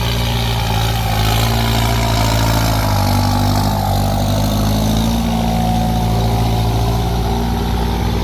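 A Kubota M8808 tractor with an upgraded turbo engine runs nearby, giving a loud, steady low diesel drone throughout with no voices.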